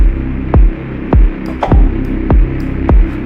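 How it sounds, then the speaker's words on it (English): Static, wind-like noise layered into a deep techno track, a hissy buzzing bed beneath five loud, regularly spaced kick thumps, with a few brief bright ticks between them, no voices. "This kind of static wind kind of thing."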